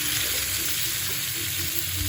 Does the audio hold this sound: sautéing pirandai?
yes